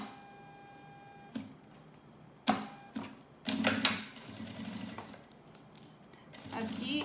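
A sewing machine runs a second line of stitching close to the zipper teeth on a waterproof nylon mask pouch. The motor whirs in short runs broken by clicks and clunks, with a faint voice talking now and then.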